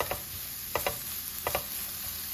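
Egg roll filling with green onions is stirred in a pan over a soft sizzle, with a spoon scraping in quick pairs of strokes.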